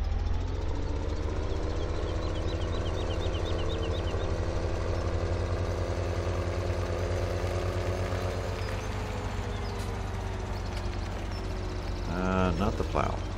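A Massey Ferguson tractor engine idles in Farming Simulator 17, a steady low rumble held throughout, with a brief mechanical clatter near the end.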